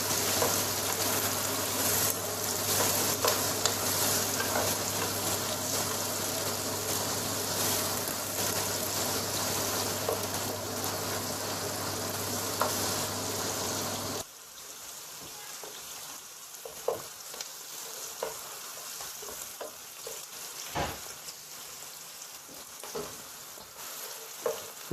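Onions softening in a pan for a bhindi masala, frying with a steady, fairly loud sizzle and some stirring for the first half. The sizzle then drops away, leaving quieter clinks and scrapes.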